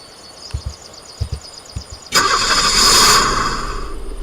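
A green sedan's engine starting in a video game: a few soft clicks and thumps, then the engine catches with a sudden loud roar and settles into a steady rumbling idle.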